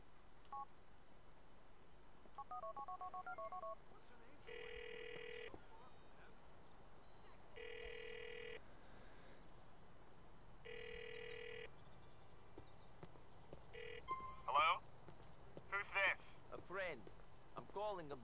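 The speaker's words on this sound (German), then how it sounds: "könntest du vielleicht mal dein Handy aufrufen?" Phone keypad tones in the GTA IV video game: a string of dialing beeps, then several evenly spaced ringback tones, followed by a call connecting with voices, all heard over a low background hum.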